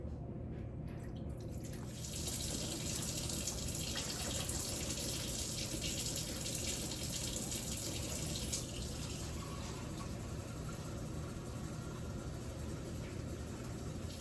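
Tap water runs steadily into a container while sourdough dough is prepared, a continuous close splashing rush that starts after a quiet moment and holds alone to the end.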